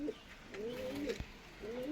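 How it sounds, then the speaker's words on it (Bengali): Male pigeon coos in soft, rolling, throaty phrases, repeated a few times close by with a brief tap between calls. "নর কবুতর।"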